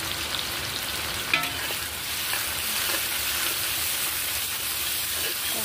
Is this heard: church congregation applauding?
no